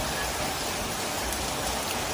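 Steady rain falls in January, a dense, constant hiss of drops filling the whole moment with no pauses and no voices.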